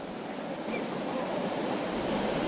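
Wind and lapping water at Chew Valley Lake, a reservoir near Bristol, give a steady broadband rush that holds constant throughout with no other distinct sounds.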